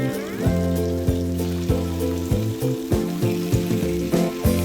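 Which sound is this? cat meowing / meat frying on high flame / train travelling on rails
meat frying on high flame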